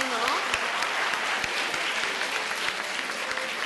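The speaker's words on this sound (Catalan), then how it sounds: "jo crec que es mereix també un aplaudiment, no?" A studio audience applauds on a Catalan television word game show, steady clapping filling the whole stretch with faint voices mixed in.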